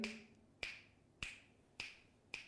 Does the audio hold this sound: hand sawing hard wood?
no